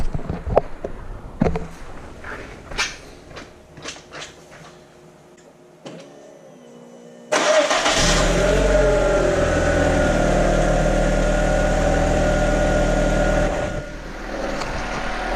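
A Volkswagen Jetta wagon goes through scattered clicks and clunks, then the engine catches at once and settles into a loud, steady idle with no ticking, and the level drops slightly near the end.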